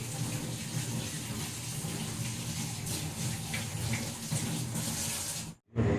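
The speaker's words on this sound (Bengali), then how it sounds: "হ্যাঁ দেখো হাতটা ধুই" Hands are washed under a running kitchen tap, a steady close rush of water that stops abruptly near the end, with no talking.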